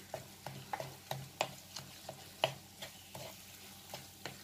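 Kofta with tomato paste sizzles softly in a pan while a utensil stirs it, making a rhythmic series of scraping taps about every half second over a faint frying crackle.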